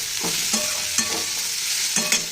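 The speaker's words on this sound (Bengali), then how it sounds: "পেঁয়াজ ক্যাপসিকাম টমেটো ভালো করে ফ্রাই করে নেব" Onion, capsicum and tomato frying loudly in a pan, a steady sizzle broken by rhythmic spatula scrapes about every half second.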